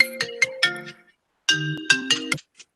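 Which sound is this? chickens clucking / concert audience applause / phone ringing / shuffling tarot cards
phone ringing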